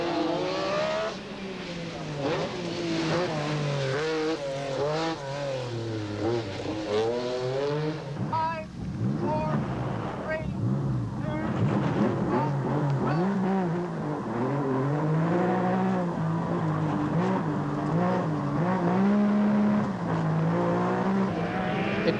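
Metro rally cars race hard around a tight circuit at the 1986 Circuit of Ireland, their engines revving and changing pitch continuously as they accelerate and pass, loud and close, with commentary heard underneath.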